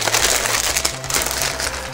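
A plastic bag crinkles and rustles continuously, up close, as a Kiborg Z-XL robot kit by Tekhnolog is unpacked, with a low tonal hum underneath.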